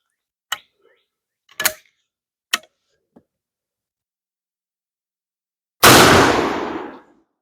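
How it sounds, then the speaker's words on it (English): A homemade black powder shotgun shell fires once, a single sharp, loud blast with a rough decaying tail lasting about a second, after several faint clicks and taps in near silence. "we're going to test these black powder shotgun shells and see how they go"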